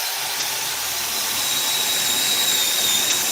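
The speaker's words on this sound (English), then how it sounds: "So if we can drill a hole, let's go." A 3/8 inch drill bores a hole in a wooden board for an Adirondack chair, giving a steady high-pitched whirring hiss that runs on without a break and grows slightly louder as the bit cuts.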